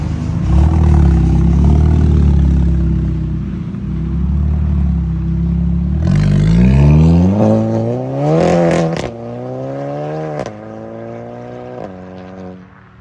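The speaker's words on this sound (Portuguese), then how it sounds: "Escapamento full inox com difusor gringo. Com dois abafadores." Audi TT with a full stainless steel exhaust, diffuser and two mufflers, idling at first, then revving hard several times with rising and falling pitch, loud and close, with no talking.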